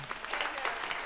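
Audience applause at a Hindi poetry recital (kavi sammelan), a brief burst of steady, dense clapping from a crowd with no voices over it.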